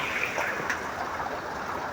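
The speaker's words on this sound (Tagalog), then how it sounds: "talagang hindi na humihinto ang ulan" A dense, continuous hiss of heavy, unceasing rain on the Maharlika Highway in the Philippines, broad and steady with no voices.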